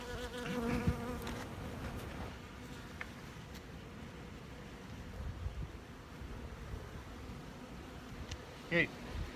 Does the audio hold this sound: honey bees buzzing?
yes